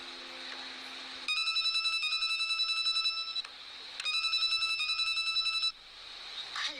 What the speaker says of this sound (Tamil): அவளுக்கு ஃபோன் பண்ணலாம்.